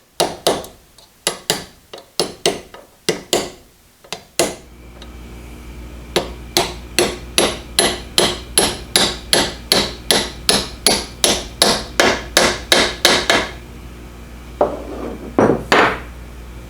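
A bushing is hammered into a Vevor 8-inch shear with loud metallic blows, first an irregular cluster, then a long steady run of evenly spaced strikes, ending in a few final hits.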